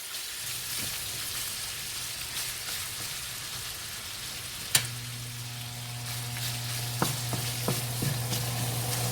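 Sausage browns in a pan over medium heat, a steady close sizzle and crackle with a few sharp spatters, a low hum running underneath throughout.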